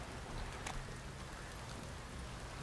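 Rain begins falling in The Witcher 3 video game, a steady dense patter and hiss of drops filling the scene at moderate level with no voices.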